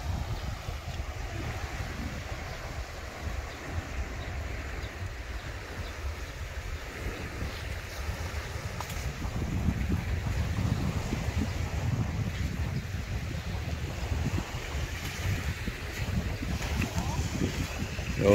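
Waves wash ashore along the Batangas coast in a low, continuous rumble with wind buffeting the microphone, the surf swelling louder toward the second half.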